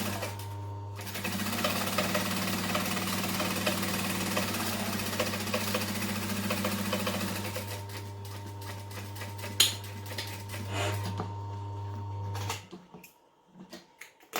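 A sewing machine runs steadily at moderate speed stitching a tote bag with sticky tape on one side, a droning motor hum with rapid needle chatter, then slowing and stopping with a few clicks near the end.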